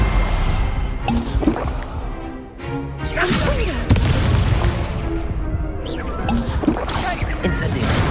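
Spell combat in Hogwarts Legacy, a Stupefy spell cast amid repeated magical booms and whooshing impacts, loud and busy with several bursts over a low rumbling bed.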